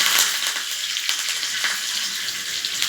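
Curry leaves hitting hot oil already holding mustard seeds and asafoetida, giving a bright continuous sizzle and crackle with small pops, steady and close.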